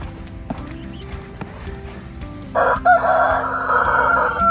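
A rooster crows loudly nearby in a snowy-day chicken coop, a long harmonic call, over a background of scattered hen clucks and farmyard shuffling.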